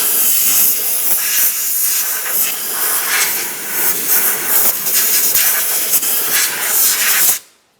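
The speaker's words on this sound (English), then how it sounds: "I'm just going to use some compressed air." A blast of compressed air blows debris off the upper strut mount of a 2012-2015 Honda Civic during front strut replacement, a loud, continuous close hiss that cuts off abruptly at the end.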